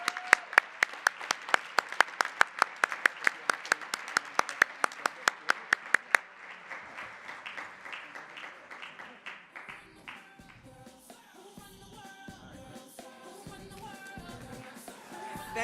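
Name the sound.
audience applause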